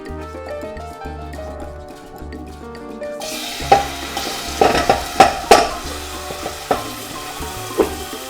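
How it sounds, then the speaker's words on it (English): Oil warming in a pan over low heat for chicken tortilla soup, a soft sizzle rising after a quiet start and punctuated by several sharp clinks and knocks of utensils against the pan. "We're going to put just on a low heat, a little bit of oil on the pan."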